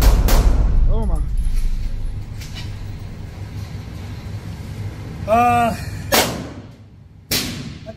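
Handgun shots ring out at a shooting range as a PSA Dagger pistol is tested, several sharp loud cracks spaced a second or more apart over a steady background rumble, with brief voices between shots.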